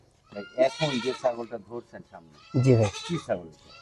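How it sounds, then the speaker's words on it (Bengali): A female goat bleats on a commercial goat farm, its short, wavering calls close by and mixed in with people talking. "এটা আপনার মেয়ে ছাগল"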